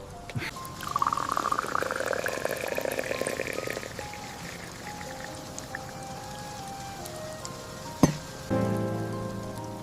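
Steady rain pattering on surfaces in a forest, a soft even hiss running throughout, with a faint tonal sweep early on and a sharp knock near the end.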